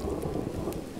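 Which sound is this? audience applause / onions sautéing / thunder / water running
thunder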